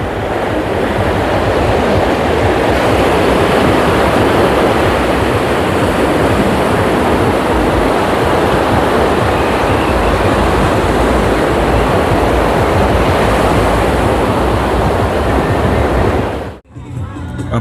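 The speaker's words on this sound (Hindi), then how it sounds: "ये लहरें यहाँ तक आ रही हैं।" Ocean waves rolling in at high tide on Arambol Beach, Goa, near the full moon, a loud continuous roar of surf with wind buffeting the microphone throughout.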